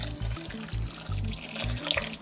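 Water poured or running from a tap into a slow cooker of lamb and bean stew, a steady splashing stream with short pauses, close and alone without talk.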